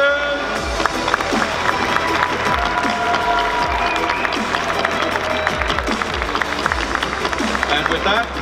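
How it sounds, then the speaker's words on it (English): Audience applause and cheering from a crowd at a cosplay contest during a DreamHack 2022 event, dense steady clapping with voices mixed in, loud and sustained throughout. "A big round of applause for our judges!"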